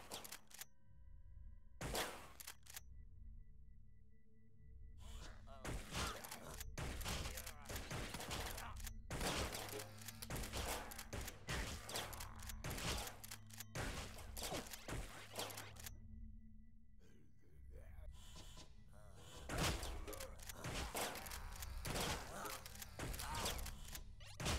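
Shotgun blasts in the sci-fi shooter Utopia 9, sounding as sharp, loud bangs spaced a second or two apart, mixed with other game effects and some talking.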